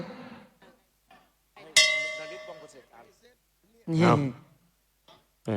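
A single bright metallic boxing ring bell clang at a Muay Thai fight rings out and rings down over a second, amid scattered speech and breathing sounds.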